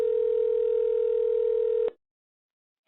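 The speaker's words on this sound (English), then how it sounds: "And we're dialing." A steady, loud telephone dial tone holds for about two seconds, then cuts to silence before another sound starts.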